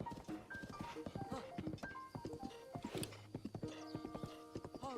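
A horse walks along a path, its hooves clip-clopping in a steady, uneven rhythm close by, with a brief whinny-like snort partway through and faint background sounds.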